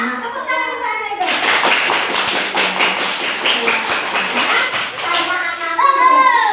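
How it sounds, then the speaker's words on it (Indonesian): Children in a classroom clapping their hands together in a dense burst of claps, with a teacher speaking before and after. "Tepuk tangan untuk anak hebat."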